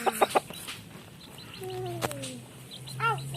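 A chicken clucks a few times, with short calls and a drawn-out cry, heard over quiet outdoor background noise.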